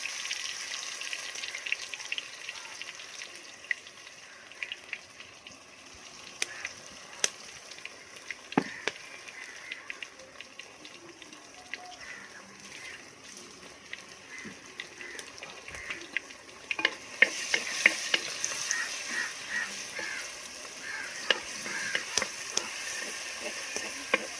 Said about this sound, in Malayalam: ഇഞ്ചി വെളുത്തുള്ളി ക്രഷ് ചെയ്ത് ഇട്ട് കൊടുക്കുന്നത്